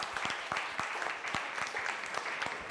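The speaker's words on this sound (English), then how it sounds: "Big round of applause for them as well." Audience at an evening drinks event on technology applauds steadily, a dense patter of many clapping hands heard at moderate distance without talk.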